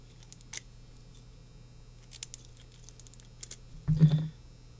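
The two original keys of a Master Lock laminated steel pin tumbler padlock jingle with a few faint, scattered metallic clinks, then a louder, brief rattle near the end, in a quiet room.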